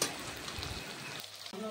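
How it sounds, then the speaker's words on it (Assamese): Onions frying in oil for smoked broiler chicken produce a continuous close sizzle and crackle, and a voice briefly starts just at the end. "এতিয়া পিঁয়াজখিনি প্ৰথমতে অলপ ৰঙচুৱাকৈ ভাজি ল'ম"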